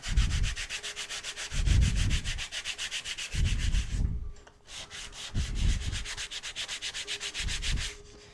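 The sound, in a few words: scuffing a surface with a sanding blotter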